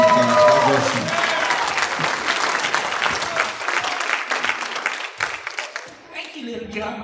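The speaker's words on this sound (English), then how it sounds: "So can we give Little Skipper a big round of applause" A church revival congregation breaks into loud applause, dense clapping that tapers over several seconds while someone talks over it.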